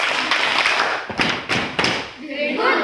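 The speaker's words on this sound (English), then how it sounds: "May we give raptors group a Unisha clap?" A school class gives a rhythmic Unisha clap in a classroom, a few sharp group claps and thumps in quick succession with voices calling out around them.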